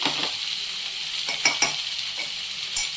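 Sliced ivy gourd fries in a pan with a steady, close hiss of sizzling oil as salt is stirred in, broken by a few soft scrapes and taps of a spoon.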